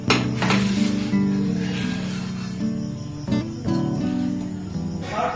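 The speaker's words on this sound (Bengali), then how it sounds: "এইভাবে সমস্ত রুটিগুলো আমি ভেজে নেব একদম হালকাভাবে" Rotis frying lightly in a pan, a steady sizzle with faint scraping and pan clinks, the sizzle holding at an even level throughout with no talk.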